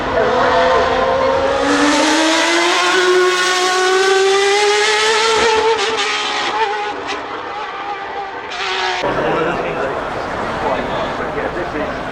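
A Bugatti hypercar pulls away on a race track, its engine note climbing steadily through the gears before a sharp shift, loud and close, with a commentator talking over it.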